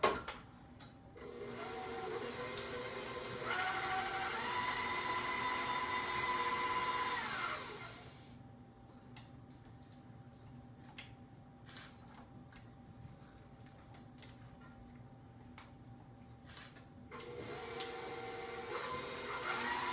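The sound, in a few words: electric mixer creaming butter at medium speed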